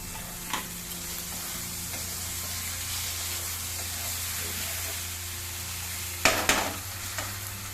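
Tomatoes and coriander frying in a pan for a Bezawada-style prawn and egg curry, with a steady close sizzle broken by a couple of sharp spoon scrapes as the mixture is stirred.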